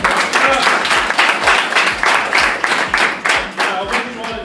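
Middle school audience at Jackson Middle School applauding a presenter, a loud, dense burst of many hands clapping steadily and close, with faint voices mixed in.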